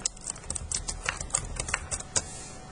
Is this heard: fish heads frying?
no